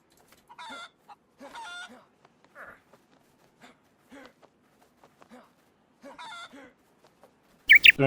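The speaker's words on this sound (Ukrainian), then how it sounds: "Мене зараз півень вирубить нахрен." An angry rooster in the video game DayZ clucks in short, separate bursts spread over several seconds, close and clear against silence, ending with a sharp, noisy thump.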